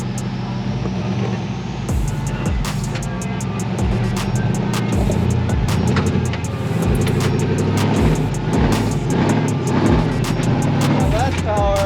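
An off-road truck climbs a rocky obstacle on the Die Hard Trail at Table Mesa, Arizona: a loud, steady engine rumble with rapid ticking and rattling, close by, with voices talking over it.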